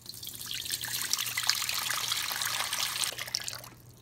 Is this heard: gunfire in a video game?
no